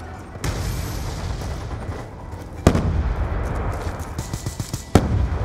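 Black Ops 2 online gameplay carries sharp blasts and booms over continuous rattling gunfire. Two loud impacts, one near the middle and one near the end, stand out in the dense battle noise, consistent with a frag grenade explosion.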